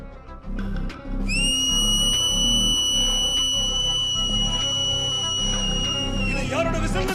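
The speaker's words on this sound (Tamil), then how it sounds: "இது யாரோட விசில் தெரியுதுல்ல?" A single long, piercing whistle sounds loudly and holds steady for several seconds before cutting off, over a busy background of music and noise.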